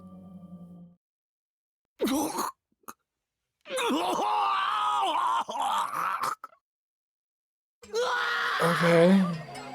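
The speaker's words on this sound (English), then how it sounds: "His moans grew louder as he reached the center of the stage." A crowd of students in a school gym moans and groans in the game Chaos;Child, long wavering wails in several loud waves separated by short silences.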